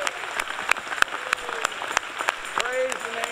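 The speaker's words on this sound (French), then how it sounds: "Hey, give the Lord a big hand" A church congregation clapping along in a rhythmic beat, evenly spaced claps roughly every third of a second, with a voice speaking over the claps near the end.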